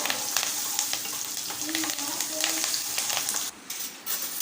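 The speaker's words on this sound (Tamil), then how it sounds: "எல்லாத்தையும் சேர்த்து கலந்து விட்டுப்போம் எல்லாமே தாளித்து ரெடியாகட்டும்" Green chillies and curry leaves crackling in hot oil during tempering, a dense bright sizzle with scattered pops throughout, briefly dipping near the end as the pan is stirred.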